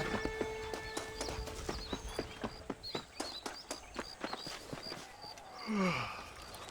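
Horse hooves clip-clop in a steady walking rhythm in the Red Dead Redemption video game, close and clear, then the horse gives a short whinny and snort near the end; no one talks.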